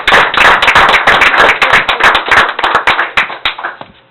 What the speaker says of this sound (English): After a round of applause.